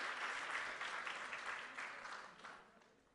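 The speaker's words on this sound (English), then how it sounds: "I think it also worth some applaudissements." Applause from a meetup audience at a JavaScript conference talk on compilers, with steady crowd clapping heard from a distance and quiet, gradually fading away.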